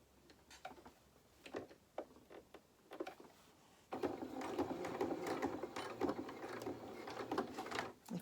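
A sewing machine top-stitches jeans pockets: first a few slow, separate clicks and thumps, then a sustained close run of steady stitching whir that fades out near the end.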